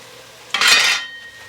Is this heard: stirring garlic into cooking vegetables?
yes